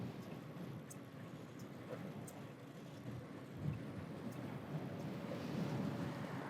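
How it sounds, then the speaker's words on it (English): Strong headwind buffeting the microphone while riding an electric beach cruiser bike, a continuous low rumbling roar that swells and eases, with a few faint ticks and no speech. "Strong headwind."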